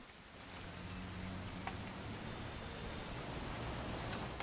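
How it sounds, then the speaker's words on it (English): Steady rain falls in the video game What Remains of Edith Finch, a soft, even hiss of drops with a few brief patters, continuous and fairly quiet throughout, no voices. "It's gonna rain the whole weekend,"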